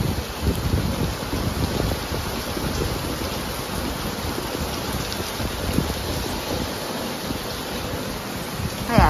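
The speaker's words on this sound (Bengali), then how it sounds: "ফাইনালি বৃষ্টি হচ্ছে" Steady rain falls throughout on a hot day, a dense continuous patter of drops with no talk, holding an even level until a brief louder splash near the end.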